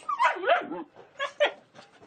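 A dog in a Tibetan village gives a few short yelping barks and whimpers, close and fairly loud, in quick irregular bursts.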